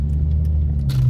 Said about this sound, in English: the car is driving a whole lot better now